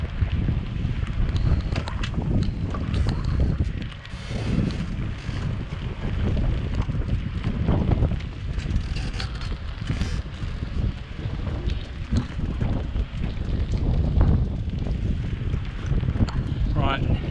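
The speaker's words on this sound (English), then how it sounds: "We'll just wait for this gust to finish" Strong wind buffets the microphone in a continuous roar with gusting swells, and people talk underneath it.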